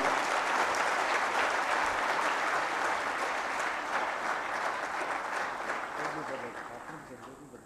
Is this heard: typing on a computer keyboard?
no